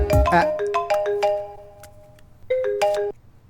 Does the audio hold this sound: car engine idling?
no